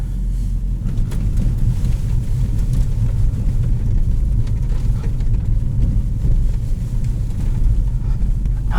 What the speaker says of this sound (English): Over the rough road section.